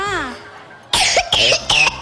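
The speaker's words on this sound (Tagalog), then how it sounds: "Inuubo po ako." A child on a Filipino TV talk show coughs three times in quick succession, loud and close, after a brief stretch of speech.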